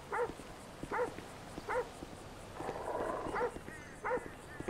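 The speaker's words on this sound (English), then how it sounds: "I can hear a dog." Dog barking in Grand Theft Auto V, a series of single sharp barks spaced about a second apart, moderately close, with a brief murmur of other game sound midway.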